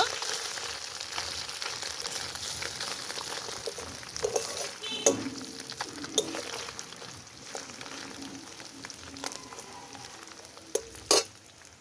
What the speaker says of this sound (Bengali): এই দেখো আমি একটু লাল লাল করে মাছগুলো ভেজে নেব।